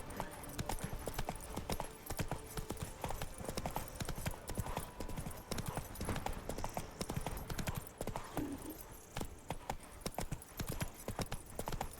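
Roach the horse galloping in The Witcher 3, a continuous rapid clip-clop of hooves at a steady beat, fairly quiet and uniform throughout, with faint game ambience underneath.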